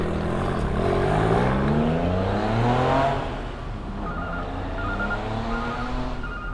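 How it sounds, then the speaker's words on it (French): An expensive car worth around 200,000 dollars pulls away with a rising engine drone, its pitch climbing loudly for about three seconds before fading into a quieter steady hum. "quand il part, on l'entend un peu accélérer"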